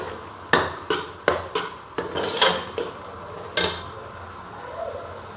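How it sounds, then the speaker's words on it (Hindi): Spices are roasted and stirred in a pan, with several sharp, close metallic clinks and scrapes of a utensil against the pan, then softer rubbing and a fading hiss. "और इसको थोड़ा सा मैं भून लूँगी।"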